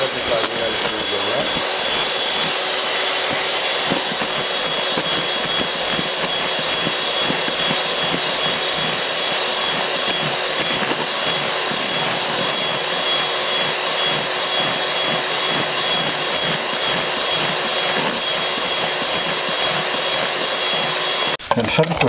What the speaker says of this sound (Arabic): هي غادي نطلع لينا الكريم ديالنا.